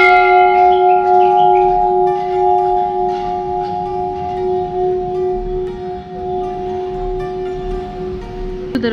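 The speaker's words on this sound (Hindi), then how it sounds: "बहुत ही बड़ी सी एक घंटी भी है" A large bell hanging in the wooden Danteshwari Temple in Bastar, Chhattisgarh rings with one strong, sustained metallic tone that fades slowly over several seconds.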